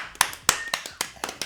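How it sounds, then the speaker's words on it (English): Several quick, sharp hand claps close by, about six in an uneven rhythm, heard alone without talk. "Round of applause, round of applause."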